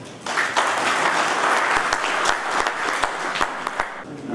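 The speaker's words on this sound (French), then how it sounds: "je vous demande de vous applaudir très fort" Steady applause from a crowd, loud and sustained for several seconds with sharp individual claps standing out.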